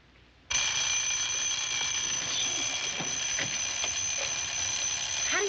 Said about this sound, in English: an alarm that sounds like Big Ben that can't be turned off